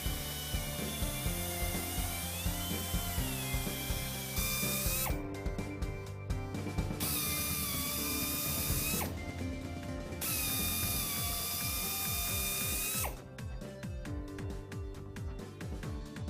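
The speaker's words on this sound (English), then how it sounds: "the injury should be drilled 5 times from each direction." A carbide cutter drilling out an injury in a radial truck tire, with a repeated mechanical whine from the tool broken by bursts of harsh grinding, close and loud, no voices.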